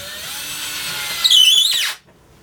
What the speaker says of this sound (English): I'm going to screw that down into my workbench at some given spot.